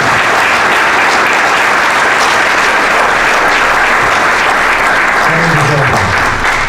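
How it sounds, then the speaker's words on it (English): Sustained audience applause fills a hall of fame induction ceremony dinner, loud and steady throughout with no break, a few faint voices mixed into the clapping. "How about a real nice hand of applause for us?"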